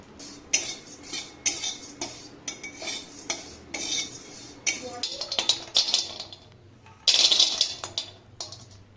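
Fox nuts (makhana) dry-roasting in a pan, with busy clinking and scraping of a metal spoon against the pan in quick bursts, close and fairly loud, with no voices over it.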